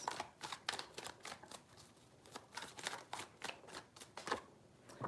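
Tarot cards being shuffled three times, a rapid series of crisp riffling flutters and soft slaps repeating in quick bursts, close by and fairly quiet, with no voices.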